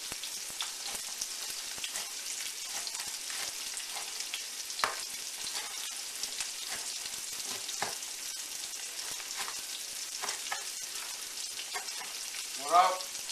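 Garlic frying in a pan gives a steady, close, bright sizzle with small pops and crackles throughout, fairly quiet and without talk.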